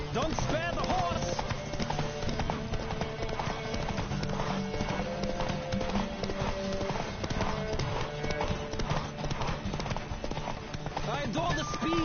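Galloping horse hooves in The Witcher game, a steady fast clip-clop running throughout the whole stretch beneath game music and a speaking voice.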